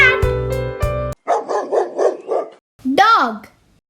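A dog barks in a short burst of several yaps followed by a whining yelp, loud and close, after a brief musical chime.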